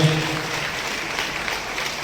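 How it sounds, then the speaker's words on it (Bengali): A crowd applauding at the inauguration of a voluntary blood donation camp under a pandal, a steady wash of clapping over about two seconds. "একটা জোরে করতালি"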